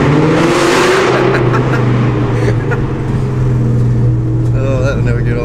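A 530-horsepower Terminator Cobra pulls hard in second gear through an underpass, its engine droning loud and close with a steady rising note for the whole stretch, and voices talk over it.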